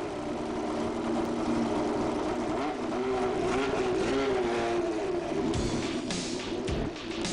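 A Formula One race car on a qualifying lap at Suzuka is heard as a continuous high-pitched engine wail that rises and falls through gear changes, loud and sustained, with short drops as it lifts off.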